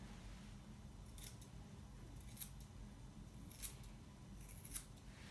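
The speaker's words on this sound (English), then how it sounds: "So I'm going to trim from the front and round. And the curve on my scissors will help me achieve that." Quiet, crisp snips of curved scissors trimming a Havanese dog's hair sound four times at a steady, unhurried pace over a soft low background hum.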